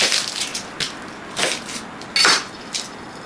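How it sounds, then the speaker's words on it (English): A knife cuts through an onion on a cutting board in a handful of crisp, crunchy chops with short pauses between them, close and clear with no talking. "Now we're gonna cut our onion."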